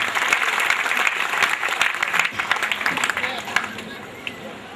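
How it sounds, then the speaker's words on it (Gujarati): A crowd at a Swaminarayan temple idol-installation festival in Vagra breaks into loud, dense, sustained applause, many hands clapping together over a murmur of background voices. "આ સેવાભાવી સભ્યોને બંને સભાઓ જોરદાર તાળીઓથી વધારે"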